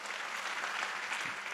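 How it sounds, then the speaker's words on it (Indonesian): Audience applause at an Indonesian gathering, a dense, steady wash of many hands clapping close by, with no gaps and no voices standing out. "Coba tepuk tangan bagi Tuhan."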